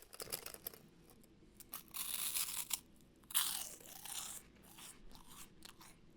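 Sour gummy candy is bitten and chewed close up in several crunchy, squelchy bursts with short pauses between, fairly quiet, with no talking.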